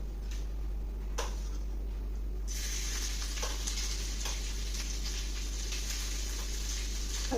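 Ginger, garlic and green chili paste sizzles in hot oil with a steady close crackle, brightening and thickening partway through as the frying intensifies, with faint ticks and no talk.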